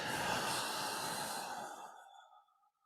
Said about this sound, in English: We're going to inhale slightly and then exhale for 12.